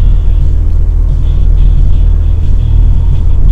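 A UAZ off-road vehicle accelerates along a highway toward 90 km/h, its engine and road rumble forming a steady, loud low drone heard from inside the cabin, with no talk.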